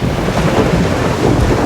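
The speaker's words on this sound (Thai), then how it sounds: "โหฝนตกพายุเข้า" In the shooter video game Blood Strike, a rainstorm with thunder roars as a loud, dense, unbroken wash of rain and rumble, with no voices over it.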